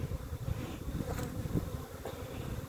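Honeybees buzz inside a nuc box, a dense, steady hum of many agitated insects close by with no voices over it.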